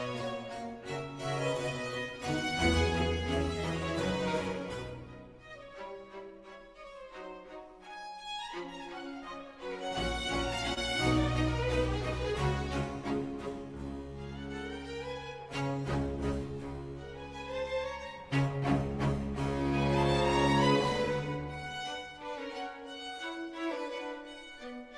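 An orchestral third movement, an Allegretto, opens with a lilting country-dance theme, playing continuously and moderately quietly with swelling and easing phrases and no voices.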